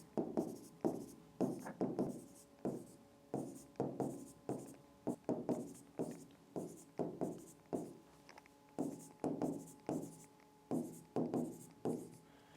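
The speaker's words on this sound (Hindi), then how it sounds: "इस तरह से लिखते जाते हैं।" Numbers are written by hand with chalk or pen in a regular series of short scratchy strokes, each a quick rasp followed by a brief gap, close and fairly quiet, with no talking.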